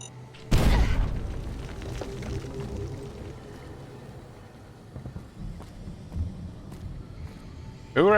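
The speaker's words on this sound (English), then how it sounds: "Really throw these flashbangs at you in this one." A flashbang goes off in the video game Fallout: New Vegas (Lonesome Road), a single loud, sharp blast early on that decays into a low rumble and muffled ambience, with scattered faint noises afterward.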